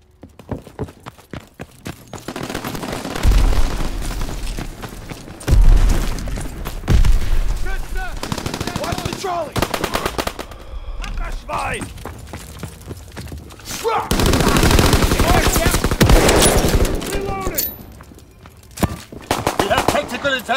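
Multiplayer combat in Call of Duty WWII: close bursts of rifle and machine-gun fire, heavy booms and scattered shots come and go in waves, with voices shouting over the battle.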